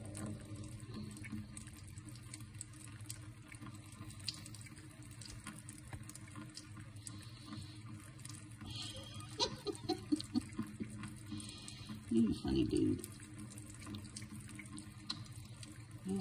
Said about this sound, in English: Oh, a fountain, and you have to drink out of the faucet.